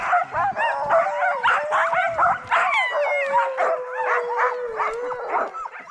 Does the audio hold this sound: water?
no